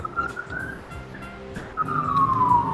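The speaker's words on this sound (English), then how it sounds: "Sorry about all the sirens." Police sirens on a city block in the video game Grand Theft Auto III, wailing and sliding in pitch nearby, fairly loud over low street rumble.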